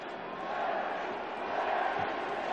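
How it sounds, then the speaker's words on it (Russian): Stadium crowd at the Astana versus Benfica football match giving an ovation, a sustained broad roar of the stands that swells slightly toward the end, with no clear talk. "Но и здесь овации трибун совершенно уместны"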